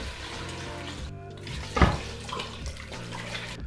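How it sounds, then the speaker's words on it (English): Water pours steadily into a pot for a katsu chicken curry, giving a continuous splashing rush with a brief louder gush partway through. No one speaks while it plays. "So now we're gonna add some water into the mix."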